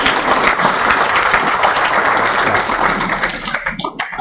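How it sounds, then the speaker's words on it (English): Loud, close audience clapping at a medical school white coat ceremony, a dense crowd applauding the organizing committee that stays steady before thinning into scattered final claps. "will you please clap for them for making it happen?"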